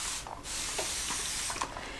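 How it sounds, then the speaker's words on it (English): Starch sprayed onto fabric laid flat on an ironing board: close, soft hissing bursts that pause briefly between sprays, quiet and alone. "I'll lay it out nice and flat on the ironing board and then spray."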